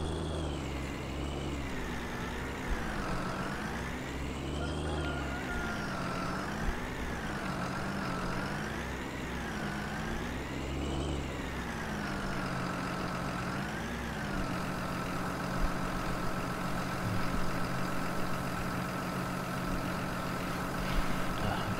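A tractor engine runs steadily while reversing on a farm, its low rumble rising and falling in repeated revving swells before settling into a constant idle-like drone, with no talking.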